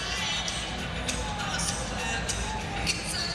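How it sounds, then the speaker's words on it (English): Hockey arena crowd in Edmonton during a WHL Final game reacts to a high-sticking penalty, a steady, loud roar of many voices with scattered shouts throughout. "Hear what the crowd thinks about this."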